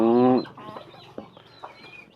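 Breeding hens and a stud rooster on a Thai chicken farm: one loud, drawn-out call at the start, followed by scattered softer clucks close by.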